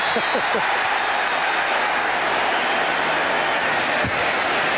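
A loud, enthusiastic football crowd roars steadily at R.F.K. Stadium during a 1991 Oilers vs. Redskins game, a dense, unbroken wall of noise with a brief voice near the start.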